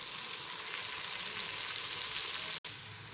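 Masala for an aloo, matar and methi dish roasting in oil over a low flame, giving a soft, even, steady sizzle that runs on with one sharp break near the end.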